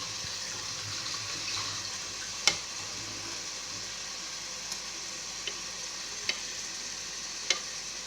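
Boiled eggs dropped into a gravy simmering in a pan: a low, even bubbling sizzle with a handful of faint, sharp taps and clicks, quiet and close, with no voices.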